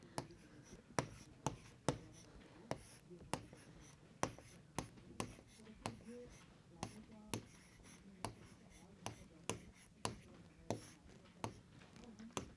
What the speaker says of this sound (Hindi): तो हम यहां लिखेंगे अनिल ने रन बनाए